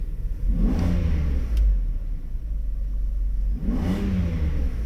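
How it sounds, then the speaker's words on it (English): Two quick throttle taps make a Mercedes V12 engine rev up to about 3,700 RPM and fall back, over a constant low idle rumble, close by. "looking at the gas pedal there, I don't know if you can hear it, but I'm gonna just tap it"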